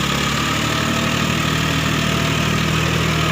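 A John Deere three-cylinder turbocharged tractor engine idles steadily up close, a loud continuous low rumble with even harmonic throb and no pauses or voices.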